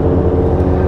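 A car exhaust rumbles past on a street in Japan. The low, steady drone is loud and near and fills the whole brief moment without a break.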